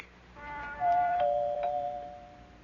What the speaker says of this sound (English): Did you ring his doorbell, Herbert?